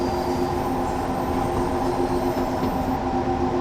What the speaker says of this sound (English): Beautiful locomotive, that's stunning.